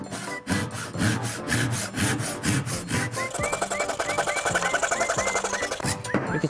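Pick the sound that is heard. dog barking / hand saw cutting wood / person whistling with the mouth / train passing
hand saw cutting wood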